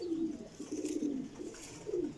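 Pigeons, a champion flock of old golden birds, coo in a series of soft, low, rolling calls close by, repeating several times over steady background hiss.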